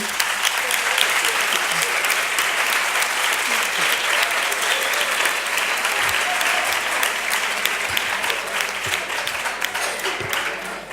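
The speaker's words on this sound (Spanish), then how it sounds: "También un aplauso para ella." Sustained audience applause at the close of a lecture session, a dense, loud wash of many hands clapping steadily for about eleven seconds without letting up.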